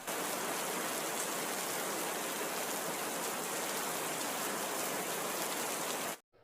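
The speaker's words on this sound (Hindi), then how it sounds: "उसी रात काले बादलों के साथ बरसात शुरू हो गई" Rain falls during a storm with dark clouds, a dense, steady hiss of downpour that continues evenly for about six seconds before stopping abruptly.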